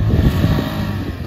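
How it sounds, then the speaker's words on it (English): An ATV engine runs in a brief, loud, rough idle-like rumble close by, with a hint of wind buffeting and no voices. "Here we got Dylan on the ATV."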